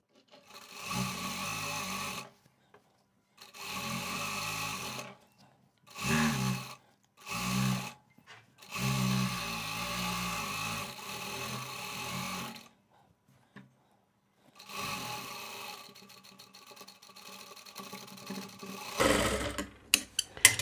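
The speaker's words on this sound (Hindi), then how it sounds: "ऐसे पलटाएंगे और इस पर सिलाई चला देंगे" A sewing machine stitches a folded saree fall in several short bursts of whirring, separated by brief silences, with a longer run near the middle and a rough clatter at the end.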